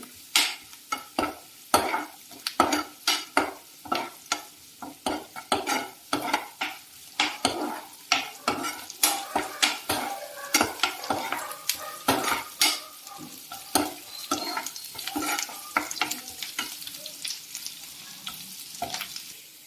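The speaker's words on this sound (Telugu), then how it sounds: "కొంచెం అల్లం వెల్లుల్లి పేస్ట్ వేసుకోవాలి. బాగా కలపాలి." Ginger garlic paste frying in a kadai for egg fried rice, stirred vigorously with a spatula scraping and clinking against the pan in quick irregular strokes over a low sizzle, close up with no talking.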